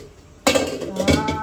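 A heavy brass cooking pot clanks sharply twice as it is picked up and set down, with metallic ringing after each knock and a faint room hush before.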